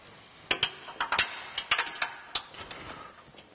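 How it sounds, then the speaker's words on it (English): A ratchet with a 7/8 socket and 3-inch extension clicks in quick irregular bursts while tightening bolts on a Jeep JL rear bumper with tire carrier, sharp metallic ticks close by with no talk. "use a 7/8 socket with a 3-inch extension"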